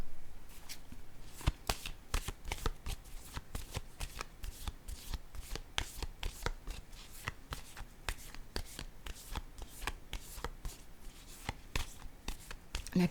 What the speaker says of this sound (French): Attendez, je vais piger une autre carte ici.